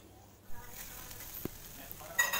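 Coconut and cooked rice are stirred together in a hot pan, giving a soft, steady sizzle with scraping stir strokes and a few sharper clinks, quiet and close.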